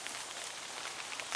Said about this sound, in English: as you can see, we've still got the rain here